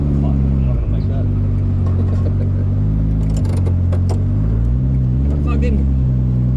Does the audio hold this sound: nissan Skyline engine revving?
yes